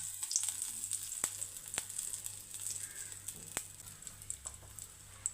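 Mustard seeds and curry leaves sizzle in hot oil with dried red chillies for a lentil and drumstick thoran, a steady high frying hiss broken by a few sharp pops and spatters, close and alone.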